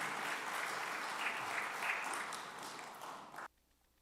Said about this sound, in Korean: 따뜻한 마음으로 박수 보내주시면 감사하겠습니다